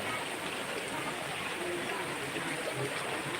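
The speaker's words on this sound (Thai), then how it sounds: "น้ำลงมาแล้ว" Water pours down steadily at an outdoor water-play spot on a hot day, a continuous broad rushing hiss that stays even and close throughout.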